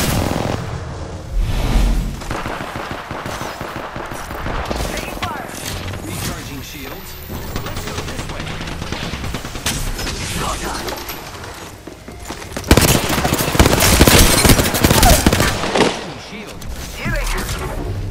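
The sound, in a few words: gunfire in a shooter video game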